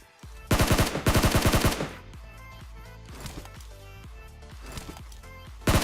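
SCAR rifle fire in a battle royale video game comes in two quick, loud automatic bursts, followed by softer scattered shots and impacts, then a final close burst at the end.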